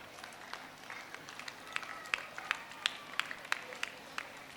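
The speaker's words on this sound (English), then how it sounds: "Clap for them, students." Students at a school annual day prize ceremony clap in scattered, fairly faint bursts, a dozen or so distinct claps spaced across a few seconds against a quiet hall.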